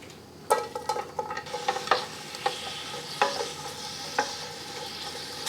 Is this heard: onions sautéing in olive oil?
yes